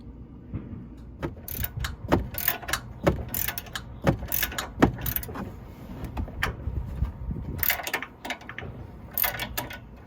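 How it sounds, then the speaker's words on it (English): Ratchet loosening the nut on a factory sway bar link bolt of a 2023 Jeep Wrangler, close bursts of rapid clicking with pauses and metallic knocks between strokes, no speech. "then you use the ratchet on the nut, and then you just start loosening it up from there"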